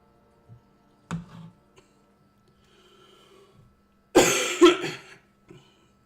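One close cough followed by a louder fit of two or three harsh, rasping coughs from a person suffering from a heavy cough, separated by near silence.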